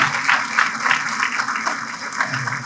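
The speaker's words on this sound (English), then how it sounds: "Give yourselves a round of applause." A crowd at a community fundraising campaign event claps steadily and fairly loudly for the whole moment, a dense wash of hands with no single voice standing out.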